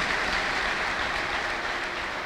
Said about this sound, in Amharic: እስቲ አጨብጭቡ ለጌታ ለኢየሱስ ክርስቶስ ክብር